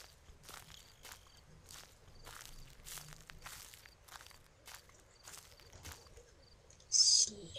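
Footsteps in the horror video game Slender, a steady run of soft crunching steps on ground, with a brief sharp higher chirp near the end.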